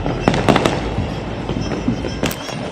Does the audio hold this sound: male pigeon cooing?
no